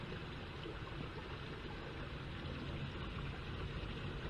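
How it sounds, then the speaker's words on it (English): Running water of the River Adur at Streatham on a summer evening, a steady broadband rush and trickle that holds even and unbroken throughout, with no talk. "Just the sound of that running water."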